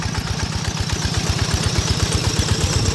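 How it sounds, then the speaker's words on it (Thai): A small walking tractor engine runs close by at a rice field, chugging in a fast, steady, even thump that stays loud throughout. "เอาใส่รถไถนาอีตอกๆแบบ นี้นะท่านผู้ชมประหยัดน้ำมันดี"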